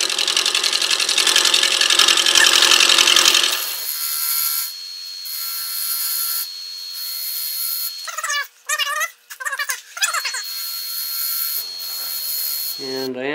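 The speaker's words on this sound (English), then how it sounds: "I'm going to just grab my nice little bowl gouge and just clean up this edge." A bowl gouge cuts along the edge of a spinning wooden Christmas ornament blank on a lathe, a loud scraping whir for several seconds, then the lathe hums steadily while a voice briefly speaks over it.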